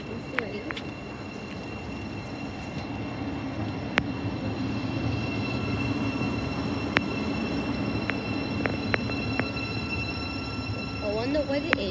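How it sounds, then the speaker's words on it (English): A train runs through platform 3 at Stevenage station on the East Coast Main Line, giving a steady rumbling roar with brief high rail squeals and clicks throughout, while a voice speaks faintly nearby. "And we have a passing by train platform 3."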